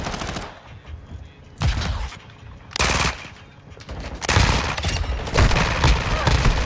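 Heavy gunfire in Modern Warfare 2 on PS5: repeated loud bursts of automatic fire and shots come in waves, with brief lulls between volleys and faint radio-style voices in the mix.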